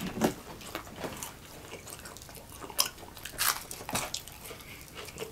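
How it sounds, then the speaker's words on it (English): Deep fried chicken nuggets bitten and chewed up close, loud irregular crunches and wet chewing sounds following one another in quick succession. "Deep fried, this one for real. It's crunchy."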